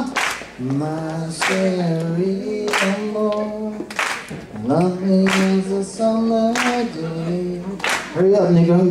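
An audience claps in unison to a beat, sharp hand claps landing at a loose, regular pulse beneath a strong, sustained voice that carries on over them throughout.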